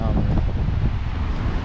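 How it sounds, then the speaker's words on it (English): Steady, loud wind buffeting the microphone on a stormy Pacific beach with sea stacks and driftwood, a dense low roar with no breaks across the short stretch. "definitely a lot more stormy and windy out this way"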